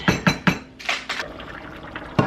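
A metal lid clatters onto a pot of boiling taco pasta, with three quick clanks, a few softer scrapes and bubbling, then one more knock near the end, close and without talk.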